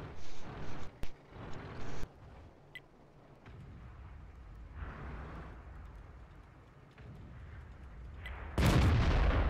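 A tank's main gun fires in World of Tanks with the AMX 30 1er prototype: a sharp, heavy blast near the end, preceded by earlier booming bursts and a steady engine-like rumble, all without speech.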